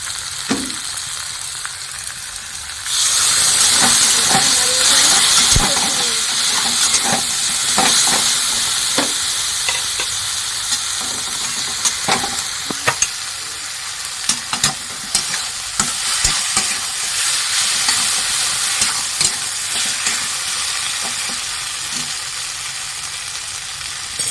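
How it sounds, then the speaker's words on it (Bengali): Ground spice paste and a splash of water frying in a pan for a tengra fish curry, bursting into a loud, continuous sizzle after a quiet start, with stirring scrapes and crackles throughout. "এই বাটা মশলাগুলো সব এখন দিয়ে দেবো তার সাথে সামান্য একটু জল দিয়ে দেবো"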